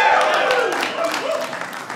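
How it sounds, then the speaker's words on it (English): Young people in a stand-up comedy audience clap loudly and steadily for a couple of seconds, with voices mixed in. "All the young people clapping."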